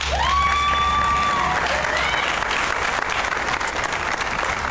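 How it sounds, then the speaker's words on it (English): Sustained applause from a large crowd at a university student center ribbon cutting in St. Petersburg, Florida, steady and loud throughout, with a brief whistle-like tone at the start. "So if you could please give them a round of applause."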